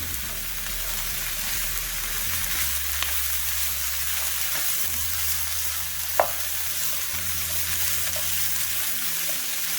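Onion-based filling for Haitian pâté kòdé patties sautés in a pan with a steady, close crackling sizzle and low background hum, broken by one sharp click near the end; no one talks.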